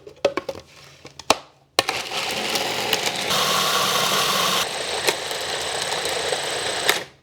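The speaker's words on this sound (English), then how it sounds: "You want to pulse till it gets chopped up more evenly and then turn it on." A kitchen blender pulses tomatoes into chunky salsa: a few short clicks and bursts, then a loud steady whirring run with shifts in motor pitch before it cuts off.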